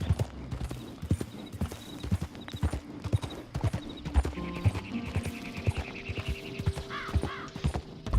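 Horse hooves clip-clop steadily at a walking pace in Red Dead Redemption 2, close and clear, with a few bird caws and scattered game ambience around them.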